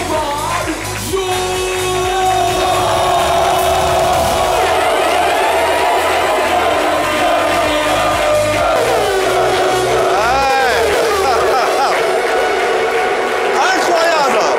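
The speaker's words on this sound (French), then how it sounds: "Merci de vous applaudir bien fort" A studio audience at a French-language television show cheers and applauds loudly and steadily, with music-like tones and whoops running through the crowd noise.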